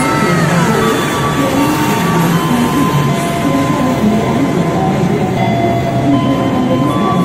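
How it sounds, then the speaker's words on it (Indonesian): A Pertamina freight train rolls by close up, a loud steady rumble of wheels and cars with high metallic whining throughout. "ada kereta api Pertamina yang sedang melintas"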